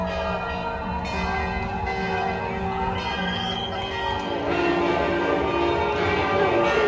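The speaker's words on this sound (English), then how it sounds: "The bells of the Methodist Church just started going off." Methodist church bells ring continuously in a dense, overlapping peal, steady and loud, with faint protest crowd noise beneath.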